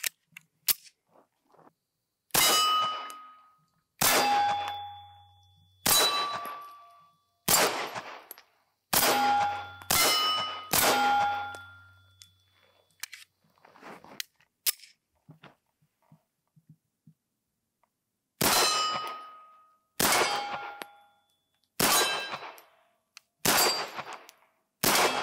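Pistol shots from a Bersa Firestorm 380 striking steel targets: about a dozen sharp reports in several quick strings, each followed by a ringing metallic clang, with short pauses between strings.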